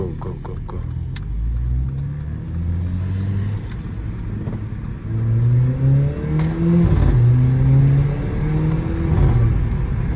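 A Mercedes CLA 45 with loud exhaust accelerates hard nearby in a residential area, rising through several gear pulls with a loud, throaty growl and brief drops between shifts.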